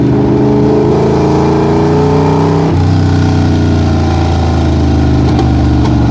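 A 1965 Shelby Cobra 427 replica's engine drones loud and steady while driving, its deep harmonic tone shifting down partway through as a gear changes, then holding a low, rumbling note.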